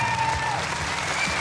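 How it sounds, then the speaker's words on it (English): A television game show studio audience claps in a dense, steady burst of applause that holds at full strength for the whole moment, while a voice speaks faintly underneath. "Give them a round of applause"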